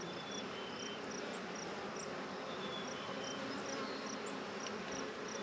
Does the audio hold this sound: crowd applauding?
no